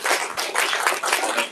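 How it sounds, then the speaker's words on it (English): An audience breaks into applause at a live event at the US Congress, a dense burst of many hands clapping nearby that swells and dips for a moment. "Please once again give him a big hand of applause."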